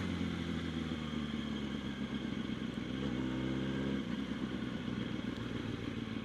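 A Kawasaki ZX6R motorcycle blows a rev-match downshift on a ride: a brief engine note jumps and wavers mid-ride, faint beneath steady wind and road noise.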